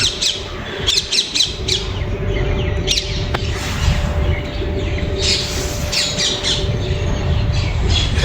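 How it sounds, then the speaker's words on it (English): Parrots squawk in Lodhi Garden, Delhi, in the early morning, with loud, harsh repeated calls in irregular bursts over steady background noise, some close and others further off. "And these are some parrots"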